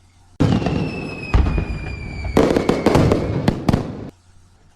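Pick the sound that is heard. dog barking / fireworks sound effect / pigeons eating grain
fireworks sound effect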